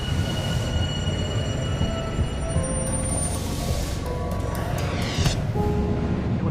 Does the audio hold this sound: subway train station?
yes